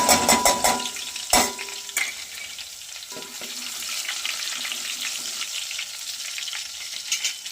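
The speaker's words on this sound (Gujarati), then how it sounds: "આવી ગયું છે એટલે આપણે લસણની પેસ્ટ નાખી દઈએ।" Garlic paste dropped into hot oil in a pan gives a sharp burst of clatter and spattering, then settles into a steady, moderately loud sizzle that carries on alone.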